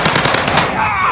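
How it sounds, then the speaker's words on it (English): A short, loud, close burst of sustained machine gun fire in a video game, several rapid shots in quick rhythm lasting about a second. "Sustained fire."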